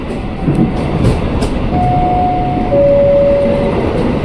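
An Indonesian KRL commuter train, the new INKA-built CLI 225, heard from inside while riding: a steady loud rumble of wheels and motors with a sustained electric whine.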